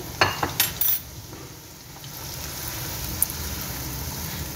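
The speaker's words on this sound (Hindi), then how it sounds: "आधी प्याली हमने ऑयल ले लिया है। ये चॉप किया हुआ प्याज डालेंगे।" Chopped onions hit hot oil with a few quick metallic clatters. A low, steady sizzle then builds as they sauté gently, close up and without talk.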